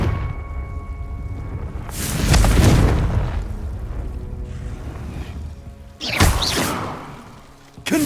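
Fiery Confringo spell blasts in Hogwarts Legacy: two loud booming explosions with whooshing bursts, the first rolling on for several seconds, the second sharper, followed by a rising hit at the end.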